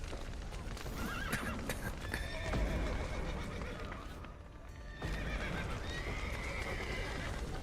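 Horses whinny and neigh amid clattering hoofbeats, with a busy game soundscape and raised voices mixed throughout.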